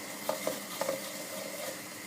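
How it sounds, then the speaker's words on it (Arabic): Beef and base for Tunisian mloukhia frying over medium-high heat in a pot, a steady soft sizzle with a few light stirring clicks near the start, alone without voices. "نبدا نقلي من الاول التقليه"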